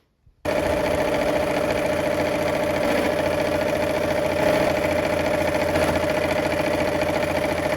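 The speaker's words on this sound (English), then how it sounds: "we are going to go ahead and sew all of those" Sewing machine sewing quilt pieces together: after a short quiet start it runs continuously at a steady, fast, even drone with a rapid mechanical needle rhythm, close and loud, and no talking.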